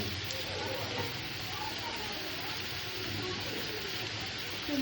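Onions sizzling in a pan as tempering for chicken masala with mint, a soft, continuous frying crackle with faint voices in the background.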